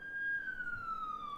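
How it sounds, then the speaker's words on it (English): An ambulance siren passes by, its steady wailing tone sliding downward in pitch as it goes, fairly loud and alone over faint street background. "Hold on, I'm gonna let the ambulance go by."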